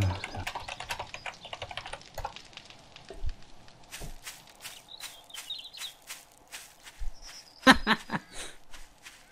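Quick bursts of typing on a computer keyboard during a Seven Days to Die game session, uneven clicking clusters close up with short pauses and a few faint game sounds in the background.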